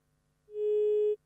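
A single steady telephone tone on a radio call-in line where no caller has connected, sounding once for about two-thirds of a second against near silence before cutting off abruptly.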